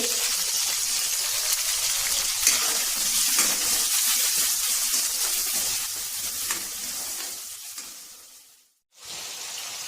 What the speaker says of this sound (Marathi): आता आपण वाटाणा टाकूया। वाटाणा आपल्याला इथे परतून घ्यायचा आहे।